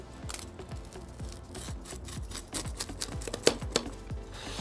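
Repeated crunchy scraping and cracking strokes, close by, as a cutter pushes through the crisp crust of a pizza baked in a Big Green Egg, in an uneven rhythm.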